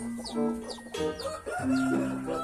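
A hen clucks steadily while sitting on eggs to hatch them, joined by a rooster crowing and other fowl nearby; close, continuous layered calls with no talk.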